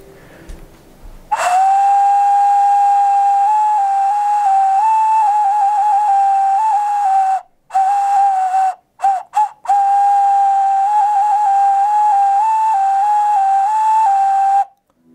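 Homemade clay whistle blown in long, steady, piercing tones with a few brief breaks for breath, loud and close, the pitch wavering slightly, with no talking.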